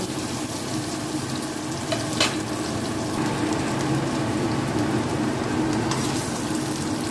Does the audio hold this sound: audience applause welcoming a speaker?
no